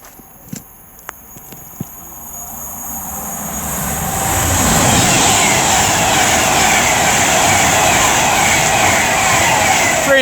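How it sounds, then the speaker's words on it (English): A Pendolino train on the West Coast Main Line at Tamworth passes close by: a few sharp clicks, then a loud rushing roar swells in around four seconds and holds steady to the end. "And we got a Pendolino."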